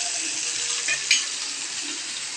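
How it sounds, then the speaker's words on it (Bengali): Vegetables with a few black cumin seeds fry in a hot pan, a steady close sizzle with a couple of brief stirring scrapes near the middle; no one speaks. "এবার আমি এটাকে একটুখানি নাড়াচাড়া করব, ভালো মতন সবজিগুলোকে একটুখানি ফ্রাই করে ভেজে নেব।"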